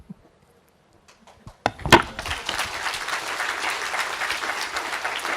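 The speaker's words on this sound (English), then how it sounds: "one more round of applause for the rock star of geopolitics" An audience applauds after a talk by a geopolitics analyst, starting with a few scattered claps that swell at once into steady, sustained clapping from a large crowd, nearby and fairly loud.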